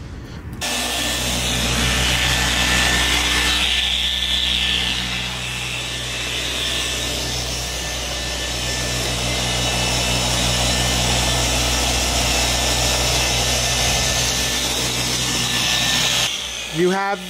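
A machine polisher whirs steadily on the paint of a Dodge Hellcat with Geon polish, a continuous buzzing hum that runs for most of the stretch and cuts off near the end, with talk over it.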